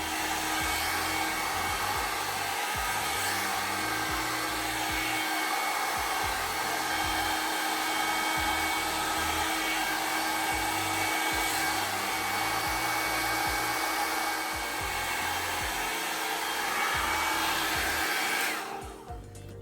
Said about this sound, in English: I can't really talk over it, it's too loud